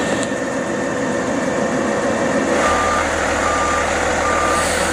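Steady electronic reversing beeps from a backing Peterbilt garbage truck, loud and close over a constant diesel engine rumble, with no talk.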